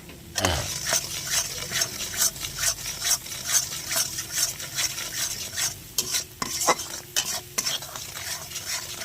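Spiced masala paste for butter chicken sizzles and fries in a hot pan, with steady, repeated scraping strokes as it is stirred throughout, close and fairly loud with no voices.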